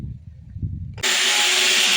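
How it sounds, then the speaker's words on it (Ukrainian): An angle grinder works on an old metal mailbox about fifty years old, starting abruptly halfway through as a loud, steady high-pitched grinding hiss that holds to the end after a quieter low rumble. "Попросила синулю, щоб он мне болгаркой очистил ящиків."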